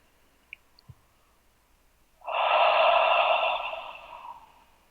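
One slow, deep breath drawn in softly and close, a breathy whoosh lasting about two seconds and fading out, preceded by a couple of faint clicks in near silence.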